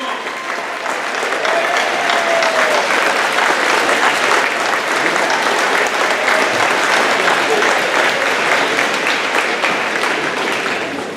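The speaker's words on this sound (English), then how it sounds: "give them a round of applause" Graduation ceremony crowd applauding the graduates' parents, a steady, loud wash of clapping that holds for the whole stretch with no voices above it.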